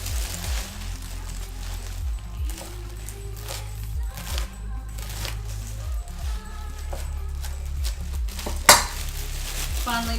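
Kefta meatballs frying in a pan for a Moroccan kefta sandwich, giving a steady close sizzle with scattered clinks of utensils on the pan and one sharp knock near the end.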